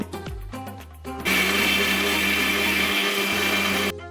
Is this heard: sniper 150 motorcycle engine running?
no